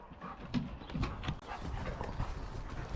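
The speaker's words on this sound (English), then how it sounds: "That's about the third dog we have here." A dog runs about outdoors in a vegetable garden chasing a bee, with quick padding footfalls and panting breaths close by in the foreground, alongside occasional soft yelps.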